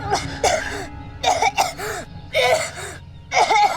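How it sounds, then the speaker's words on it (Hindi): Harsh, chesty coughing in several close bursts, each fit broken by short gasps, heard up close. "खांसते खांसते दम फूल जाता है इसका"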